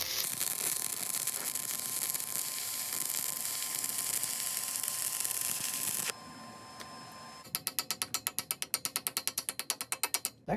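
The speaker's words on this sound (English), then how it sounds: "it was a really steady arc" RILAND ARC 200Pro stick welder arc welding with 5/64 rod, a steady loud crackling hiss for several seconds, then a short pause and a run of rapid, evenly spaced ratcheting clicks near the end.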